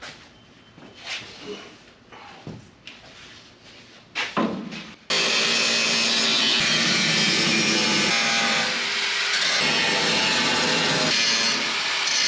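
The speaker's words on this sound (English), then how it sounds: "let's measure, mark, and cut the remaining portion of this seat pan" Work on a Firebird's sheet metal seat pan begins with scattered taps and scrapes while it is measured and marked, then a harsh, loud, continuous cutting roar takes over and grinds on without pause.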